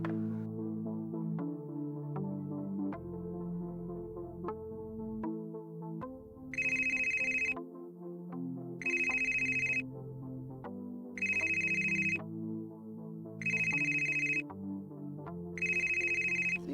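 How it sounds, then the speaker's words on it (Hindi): A phone ringtone melody plays, then a bright electronic ring repeats in five evenly spaced bursts over the tune, clear and close. "रात को किसका फोन है?"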